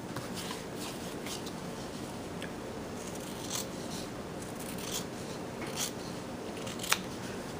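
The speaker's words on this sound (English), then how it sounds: "so I'm going to cut that off" Scissors snip off a tab from a piece of fabric or paper cut on a Big Shot die-cutting machine, a few faint, soft cuts standing just above a steady background hiss with no talking.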